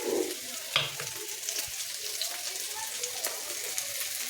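Oil and spices fry in a kadai for a fish roe and spiny gourd dish, a close, steady sizzle with a sharp crackle near the start and a few soft stirring scrapes.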